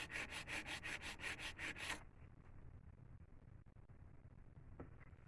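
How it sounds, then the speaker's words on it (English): A quick run of about ten rhythmic back-and-forth scrapes of a nail file shaping an acrylic nail, close and crisp for two seconds, then stopping into quiet room tone with a faint tap. "just keep on, filing to the desired look that you're going for"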